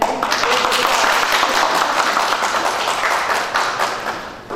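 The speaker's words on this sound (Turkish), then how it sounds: "Alkışlayalım." Guests at a Turkish civil wedding ceremony break into a full round of applause, a close, dense burst of many hands clapping that holds steady for several seconds and then thins slightly at the end.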